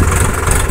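Sonalika 60 and Mahindra 575 tractor engines run together nearby, producing a loud, steady, rumbling drone with a dense low throb that never lets up.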